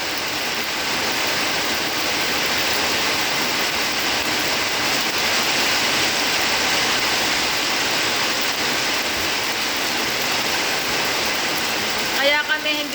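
Heavy rain pours down in a steady, loud hiss that doesn't let up, with a person talking over it.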